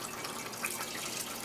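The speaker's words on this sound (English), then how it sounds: "it's all milky water, yeasty milky water stuff coming out now" Milky, yeasty water draining out of a container while washing homebrew yeast, a steady soft trickle of liquid running continuously at a low, even level with no talking.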